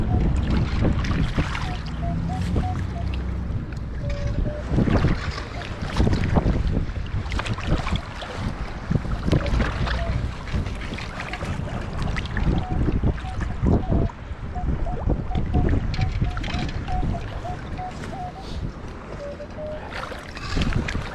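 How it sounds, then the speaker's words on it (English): Strong wind roars and buffets the microphone on an open winter lake in Canada, with water lapping and sloshing near a wader, plus a faint repeated metal detector tone, sustained and loud throughout. "It's just getting too ugly out here. The wind."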